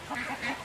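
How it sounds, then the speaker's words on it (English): A mother duck calls with repeated short, honking quacks in a steady rhythm while she sits over her hidden ducklings. The calls sound fairly close and moderately loud, with no talking over them. "Oh, you see the mama duck right over here."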